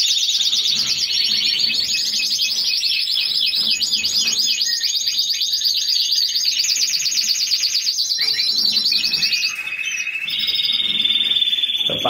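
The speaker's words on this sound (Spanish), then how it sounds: "Los pájaros se ven cantando." Caged birds sing continuously in a dense, bright chorus of rapid chirps and trills, loud and close throughout with no talking.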